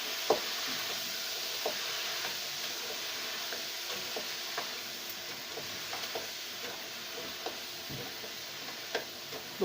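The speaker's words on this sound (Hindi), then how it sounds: "इसी तरह हमने पोटैटो को भी इसी तरह फ्राई करना है।" Potatoes fry in a pan for an Afghan village-style aloo baingan dish, giving a soft, steady sizzle with scattered small ticks and clicks, fairly quiet and with no voices.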